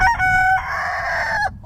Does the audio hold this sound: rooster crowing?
yes